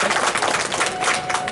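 A crowd at an outdoor farmers' union gathering in Nagda applauds steadily and loudly, many hands clapping together in a dense continuous roar.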